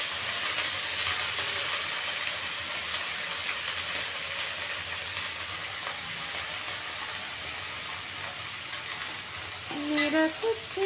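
Vegetables frying with tomato and dal in a pan, a steady loud broadband sizzle running unbroken throughout, with a few clinks and scrapes near the end.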